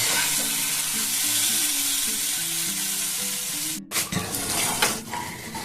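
A Bengali fish head chorchori with mixed vegetables sizzles loudly and steadily, then cuts off abruptly and gives way to a short run of scraping and clattering as the curry is transferred into a bowl.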